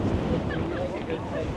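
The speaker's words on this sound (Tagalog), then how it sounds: "Mahangin, guys." Strong wind buffets the microphone at Red Rock, a dense, loud rumbling roar with no letup through the brief moment, a few faint higher tones drifting over it.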